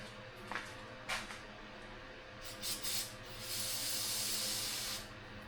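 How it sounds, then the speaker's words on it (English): Cleaner sprayed into the accelerator pump of an S&S Super E carburetor on a 1999 Harley, heard as a steady close hiss lasting a couple of seconds after a few short puffs and small handling noises. "So we're going to spray and clean that out."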